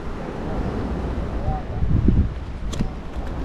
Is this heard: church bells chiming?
no